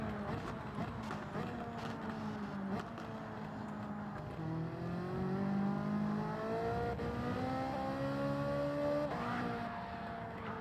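A race car in Gran Turismo 7 holds a steady engine drone that climbs and dips in pitch as it is driven at partial speed into a braking zone. The sound is continuous and fairly quiet.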